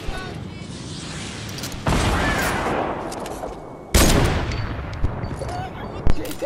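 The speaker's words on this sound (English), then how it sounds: "Jin, shoot at the gun!" Gunfire in the video game Fortnite, dense bursts of rapid shots and booms in a loud continuous barrage that swells sharply at several points.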